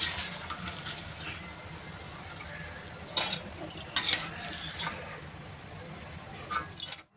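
Maize flour sev namkeen being lifted out of hot frying oil with a slotted ladle, soft oil sizzle under scraping and stirring, with a few light metallic clinks and splashes toward the end.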